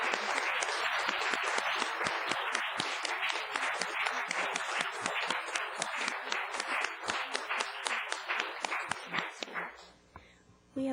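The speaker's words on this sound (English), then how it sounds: "So a big round of applause." A school board meeting audience applauds the board, a dense, steady wash of clapping that carries on for about ten seconds and then tapers off abruptly.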